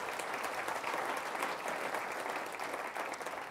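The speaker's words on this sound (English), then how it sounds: "Can we have a round of applause for our panelists?" Sustained audience applause after a panel session at a conference on future megacities, a dense even patter of many hands clapping throughout, with no speech over it.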